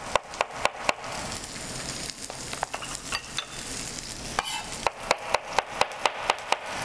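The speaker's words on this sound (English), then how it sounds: "we're going to slice them up" A knife slices food on a cutting board, making quick sharp taps in even bursts near and clear, over a soft sizzling pan in the background.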